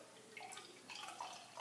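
Saison-style beer is poured from a bottle into a glass, a quiet, close trickle with soft splashing and dripping and no talk.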